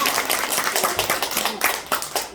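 Scattered clapping from a church congregation honoring one of its members during a Korean worship service, a few dozen hands beating in a loose, uneven rhythm, steady and fairly close.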